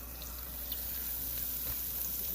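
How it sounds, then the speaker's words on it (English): Chuck roast sears in a Dutch oven on the stovetop, a steady, even sizzling hiss with a faint crackle that holds without a break. "Now we're gonna sear it up to kind of get a nice little crust on both sides."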